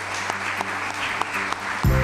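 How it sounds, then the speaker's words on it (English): Moderate applause from an audience greeting candidates, a steady patter of clapping under a background music bed, ending with a low-pitched musical hit. "A round of applause for our candidates."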